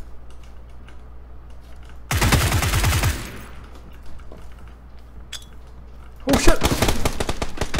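Gunfire in the battle royale game PUBG: two loud, dense bursts of rapid automatic shots, one early and one near the end, with quiet game ambience between and a short exclaimed voice.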